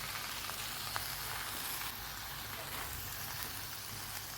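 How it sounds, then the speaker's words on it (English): Washed and drained rice being stirred into a pot of sizzling vegetables over low heat for a one-pot Tehri, giving a soft continuous frying hiss with faint scraping, quiet and steady. "Add in the rice that has been washed and drained."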